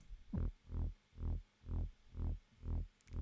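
A deep, pulsing glitter bass synth throbs in six even swells in a house music track, each note rising and falling smoothly with a soft attack, with no other sounds around it.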